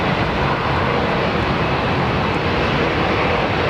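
Steady broadband roar of a Vistara / Air India jet airliner at London Heathrow, continuous and fairly loud with no change in level, no voices over it.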